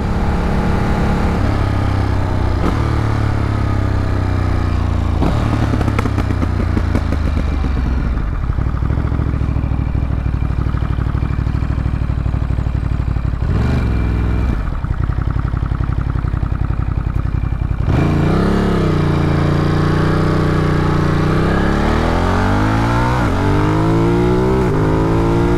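A Ducati motorcycle engine pulls hard in third gear on an open road, a loud, sustained close-up roar with pitch climbing and falling across several sweeps and steady wind rush.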